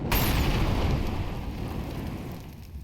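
An incendiary grenade in Counter-Strike bursts into flame with a loud whoosh and then a steady roaring, crackling burn that slowly tapers off.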